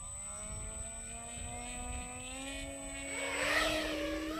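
A small propeller motor on a homemade model airplane whines at a steady high pitch, rising slightly as it passes closer, then fading back under wind noise.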